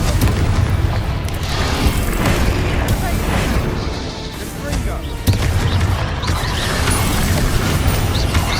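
Fire-blast spell combat in Hogwarts Legacy, with repeated loud booming bursts and crackling impacts layered over a dense, continuous wash of battle noise and music, plus a sharp hit near the middle.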